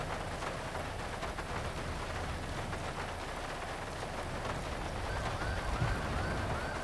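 A steady wash of video game rain patters evenly throughout, fairly quiet and continuous, with no voices and a faint rising tone near the end.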